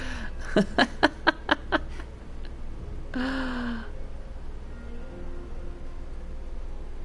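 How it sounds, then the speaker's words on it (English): Rose, a Fallout 4 character hauling a heavy load, breathes in a rapid run of about six sharp panting breaths, followed by a longer strained exhale, close and fairly clear over a low background hum. "You can hear Rose panting because she's carrying like 500 pounds of crap"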